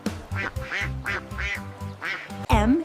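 A voice imitates a duck in a children's alphabet song, giving a run of rhythmic, close quacks, the last one louder and longer.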